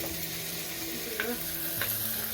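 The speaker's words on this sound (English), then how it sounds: "Mix it well and let it cook in a medium flame" Mutton keema curry stirred and cooked in a pan over a medium flame: a continuous close sizzle and bubbling with soft scraping stir strokes, steady and without voices.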